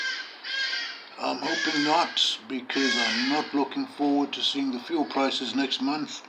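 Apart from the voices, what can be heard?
noisy birds cawing outdoors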